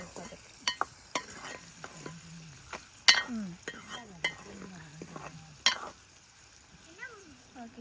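Food sautés quietly in a pan with salt added, a low sizzle punctuated by sharp clinks and scrapes of a spoon against the metal, with faint voices now and then.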